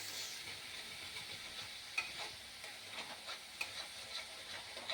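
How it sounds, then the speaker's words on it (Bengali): Boal fish curry cooking down in a pan gives a faint, steady sizzle and hiss, with occasional soft clicks and stirring ticks, heard close and alone without talking. "এটাকে আমি একটু কষিয়ে নেব আগে কষানোর জন্য রেখে দিচ্ছি"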